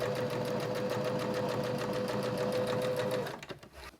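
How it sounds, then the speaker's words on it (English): A sewing machine stitches forward and back through folded fabric, a fast, even mechanical chatter running loud and close for about three seconds before it slows and stops, with no talking. "I'm going to stitch and then back stitch to reinforce it, and then go forward again"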